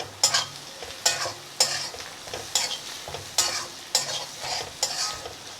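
Puiya fish frying with salt and turmeric in a pan, a steady sizzle broken by about seven sharp, regular scrapes of a spatula, close and fairly loud, with no voices.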